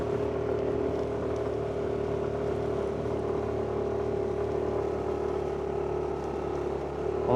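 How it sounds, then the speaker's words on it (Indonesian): A standard motorcycle carrying two riders and luggage on a touring ride holds a steady, continuous engine drone with wind rush and no talk, rising slightly at the very end. "Kondisi motor standar ya mesinnya ya."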